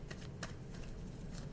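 Tarot cards are shuffled by hand in a quick, soft flurry of riffling and rubbing, close and fairly quiet, with no talking.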